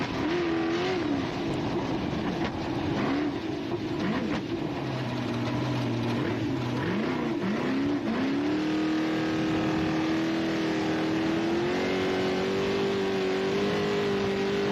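Class 10 desert race car, normally aspirated up to 2.5 litres, revving steadily with rising engine pitch over a broad rumble, fairly close and sustained throughout.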